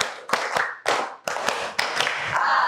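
Hands clap in a steady counted rhythm during a classroom clapping exercise, sharp close claps in short groups with brief pauses between, no talking over them.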